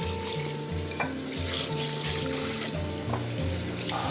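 Pan-fried chicken simmers in teriyaki sauce with added water, bubbling and sizzling up close while a utensil stirs and scrapes in an uneven rhythm. A faint music bed plays underneath.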